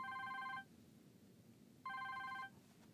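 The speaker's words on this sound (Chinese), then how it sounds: "不好意思，我接个电话。" Two bursts of an electronic telephone ring, each about half a second, separated by a pause in a quiet indoor room.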